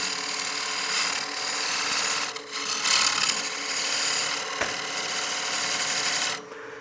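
Wood for a cake stand is stepped down on a lathe, making a continuous rasping cut of moderate loudness over the machine's hum, with small dips where the tool lifts and a sharp tick near four and a half seconds.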